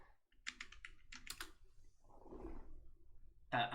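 Quick, light clatters of a computer keyboard, typed in short bursts, followed by a softer rustle and then a louder clack near the end, with no talk.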